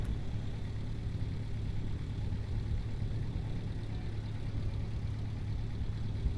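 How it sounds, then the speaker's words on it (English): A rocket engine in Kerbal Space Program, scaled to quarter real size and run with Waterfall and Restock mods, gives a steady low rumbling drone like an idling diesel engine, fairly quiet and without speech. "It does kind of sound like a diesel engine on these"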